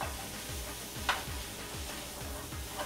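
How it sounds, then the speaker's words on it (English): Chicken breasts or thighs sautéing in a pan give a steady, close sizzle with soft periodic stirring scrapes and one brief bright clink; no talking. "we're going to saute all of this together until that gets heated thoroughly"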